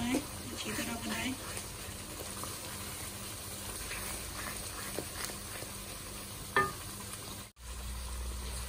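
Masala sizzles steadily in a pan for chicken kaleji, a continuous close frying hiss with a brief utensil clank partway through and a voice talking over it.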